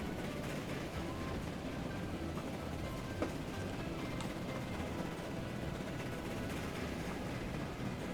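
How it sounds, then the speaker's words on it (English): A steam train crossing a long bridge in Transport Fever 2 produces a constant low rumble of rolling wheels, steady and unbroken. "Oh, riding on steam trains over long bridges."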